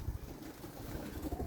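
Young show pigeons coo softly at a bird show, low murmuring calls repeating in a gentle rhythm against a busy indoor background.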